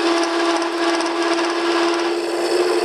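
A bevelled blade cuts with a steady, continuous rasping scrape across the material, close and loud throughout with no pauses and no speech.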